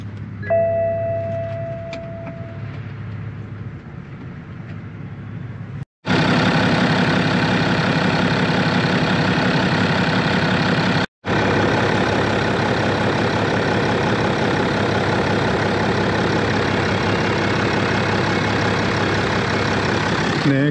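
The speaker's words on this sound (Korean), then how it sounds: "시동을 한번 걸어볼게요." A 2013 BMW X5 3.0d diesel engine runs at a steady, close idle with a continuous low rumble, briefly interrupted by cuts.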